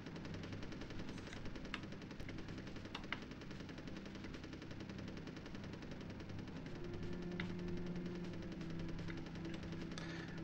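Gunfire from the Nintendo 64 game Army Men: Sarge's Heroes, rapid machine-gun bursts with scattered single shots over a low hum of game sound. The firing stays fairly quiet and keeps going throughout.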